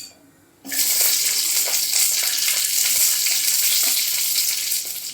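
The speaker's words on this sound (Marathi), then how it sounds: "इथे आपल्याला अगदी थोडंसं तेल टाकायचं अगदी थोडंसं म्हणजे अर्धा चमचा वगैरे त्याच्यात आपण मिरची भाजून घेणार आहोत" Green chillies hitting about half a spoon of hot oil in a pan, a sudden loud hiss that stays as a steady bright sizzle, close and alone.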